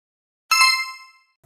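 A doorbell gives a single bright metallic ding that rings out and decays over about half a second, followed by a brief thump.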